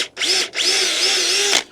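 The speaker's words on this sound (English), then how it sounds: "drill one on the other side" Power drill boring pilot holes for a chicken coop predator-proofing job, two close, loud whining bursts, a short one then a longer steady run, with no talking.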